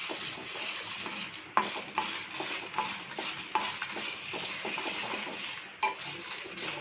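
Masala for Chettinad chicken chukka is dry roasted in a pan on a low flame, with steady scraping and stirring, a light sizzle and regular knocks of the spoon against the pan.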